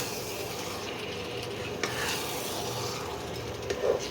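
Chicken pieces stir-fried in masala for a spicy curry make a soft scraping and rubbing sound with a faint sizzle underneath and a few sharper scrapes near the end.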